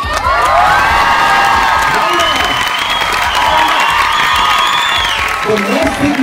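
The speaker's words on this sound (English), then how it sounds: "not to keep quiet, but to cheer" A school crowd cheers loudly and continuously for a returning under-17 handball runners-up team, with shrill children's shouts and whoops rising over a dense roar of voices.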